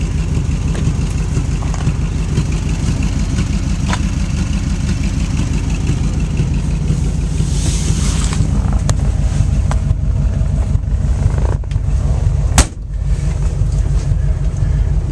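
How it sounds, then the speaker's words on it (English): A 1940 Ford convertible with a dual exhaust system drives down the road, its engine giving a loud, steady low rumble with wind buffeting the microphone and a sharp knock near the end. "jump in and take it for a little ride down the road"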